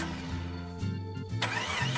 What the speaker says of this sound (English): Yes, my engine doesn't start.